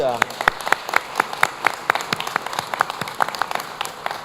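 Scattered, crisp handclaps from a press conference crowd announcing a hometown heroes parade patter unevenly, individual claps standing out rather than blending, with a voice talking underneath.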